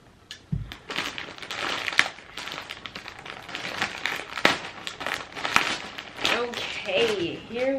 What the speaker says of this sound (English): let's open this yarn